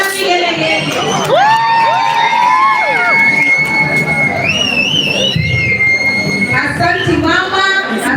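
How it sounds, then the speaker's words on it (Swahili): A large crowd at a graduation ceremony cheers loudly, with long rising and falling ululations ringing clearly over the continuous roar of voices. "Shangwe na vigelegele."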